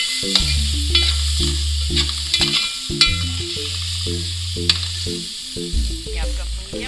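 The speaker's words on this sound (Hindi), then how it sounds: "ये देखिए आपका मसाला भुन गया अच्छे से।" Masala for haryali gosht is stirred and fried in a pan, a loud close sizzle broken by repeated scraping strokes of a spoon against the metal, with no voices.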